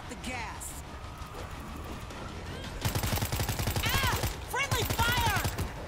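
Rapid automatic gunfire in a zombie survival game, with bursts of shots in quick rhythm, loud and close, mixed with other game sounds and overlapping bursts in the second half.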